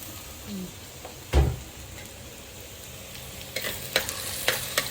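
Crushed garlic and ginger fry in a pan with a quiet steady sizzle, broken by a sharp utensil knock near the start and a run of scraping stirs toward the end.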